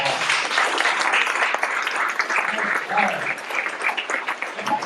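An audience applauding for Mel at a health and wellness talk, a sustained dense clapping from many people with scattered cheers mixed in, loud and close throughout.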